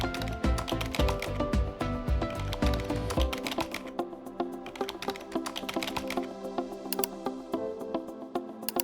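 Rapid bursts of clicking keystrokes on a computer keyboard while sign-up form fields are filled in, dense and busy at first, then thinning into sparser, lighter taps.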